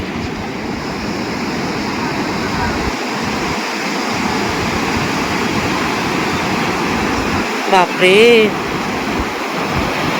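Sea waves break on a beach shore in a close, continuous roar of surf that runs the whole time, with a short excited exclamation from a person near the end.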